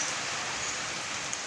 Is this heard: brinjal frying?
no